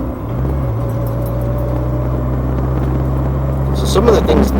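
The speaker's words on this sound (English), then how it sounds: "Giving it the beans a little bit in second gear" A 1987-88 Ford Thunderbird Turbo Coupe accelerates in second gear, heard from inside as a steady low engine drone with a droning tone that holds and rises slightly, a faint rattle near the end.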